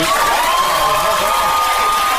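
Loud, continuous applause mixed with crowd cheering, a dense roar of clapping that stays constant throughout.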